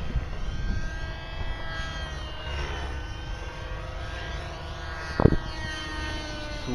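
An Aeolus 50-size RC helicopter running with a rattle, a steady whining engine and rotor drone holding a constant pitch, with one sharp knock near the end and no talk.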